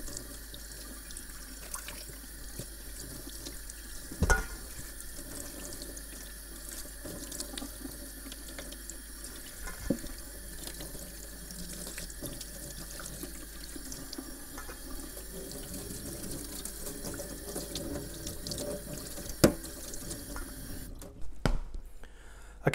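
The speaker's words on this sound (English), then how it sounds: "the next step is to wash off all of this salt, clean my workspace" Running tap water pours steadily into a sink as salt is rinsed off biltong meat, a continuous close splashing stream with a couple of brief knocks and no talking.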